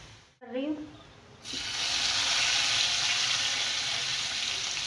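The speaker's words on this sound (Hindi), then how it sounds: "अब मैं बस इसको आपके सामने बघार कर दूँगी इसका, हमारा लहसुन हो जाए।" Garlic for a kadhi pakora tempering hits hot oil with a sudden loud sizzle that keeps up a steady, bright crackle to the end, following a short speaking voice at the start.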